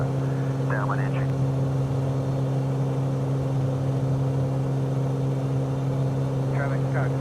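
A Cessna Cardinal light aircraft engine drones steadily in flight in Flight Simulator 2020, a loud, constant low hum with no change in pitch, while a voice briefly speaks over it.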